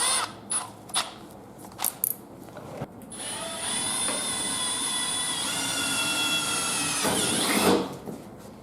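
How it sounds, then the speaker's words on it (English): A cobalt drill bit bores a pilot hole for a Jeep YJ rocker guard, a steady high whining drill run lasting several seconds after a few short taps and bursts, then stopping abruptly. "I'm gonna make a pilot hole with one of my cobalt bits"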